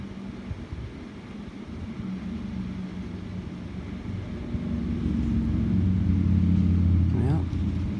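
Steady low rumble of road traffic on a busy street, a continuous wash of passing engines that swells louder in the second half, heard from indoors under intermittent nearby talk.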